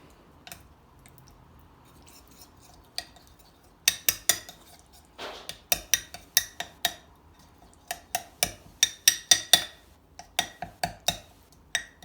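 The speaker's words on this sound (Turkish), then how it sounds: "Ve bunu güzelce karıştırıyorum." A spoon stirs yogurt into water in a small container for a skin mask, tapping and clinking briskly against the sides in quick, sharp, repeated ticks, close and clear, with no voices.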